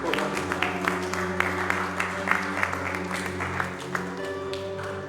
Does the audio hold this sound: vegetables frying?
no